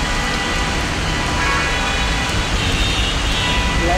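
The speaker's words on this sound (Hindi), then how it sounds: "बारिश भी अभी पड़ी अचानक।" Sudden rain falling outdoors on a street near a salon in Juhu, a steady, dense hiss that stays even and fairly loud across the whole stretch, with faint traffic underneath.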